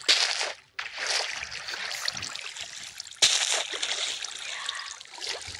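In a video game ocean monument build, water pours down from above as a continuous trickling, splashing stream with a few abrupt breaks and surges.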